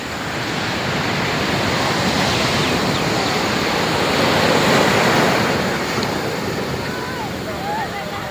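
Sea waves breaking on a shore near Cuddalore, a loud continuous roar of surf that swells in the middle, mixed with wind buffeting the microphone.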